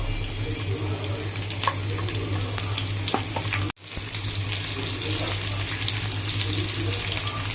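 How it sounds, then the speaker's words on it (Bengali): Black cumin, cumin, green chillies and onion frying in hot oil, giving a loud continuous hiss and crackle with a low steady hum beneath, briefly cut by a sharp drop near the middle. "সামান্য একটু জিরা দিয়ে দেবো, কিছু কাঁচা মরিচ দিয়ে দেবো, পেঁয়াজ দিয়ে দেবো"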